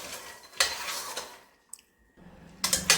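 Peanuts roasting in salt in a kadhai, stirred with scraping and clattering bursts of grainy rattling, broken by a brief quiet pause.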